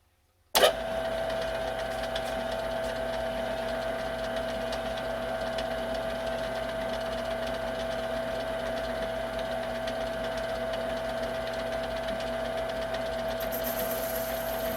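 A wood lathe starts up with a sharp click and then runs steadily while turning a wooden box, a constant motor hum and whir at moderate level continuing unbroken to the end, with no voices.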